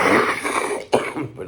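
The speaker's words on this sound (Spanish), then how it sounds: "Es que traigo una tos de perro." A single person coughs and clears their throat, a rough, raspy burst with a sharp catch near the end, close and alone without speech.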